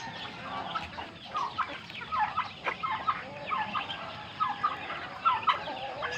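Newly hatched ducklings and young chicks of a backyard flock, a busy chorus of overlapping peeps and cheeps at moderate distance, rising and falling in short bursts throughout.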